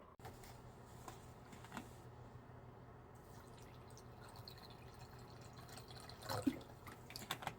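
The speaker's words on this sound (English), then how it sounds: "I'm going to go ahead and fill that up 3/4 of the way full with water" Water is poured into a cup for a candle spell, heard as a quiet trickle with soft drips and a slightly louder splash near the end.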